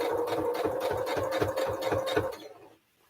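Sewing machine top stitching woven fabric at stitch length 2.5, running in a close, steady rapid chatter for over two seconds before stopping, with no talking.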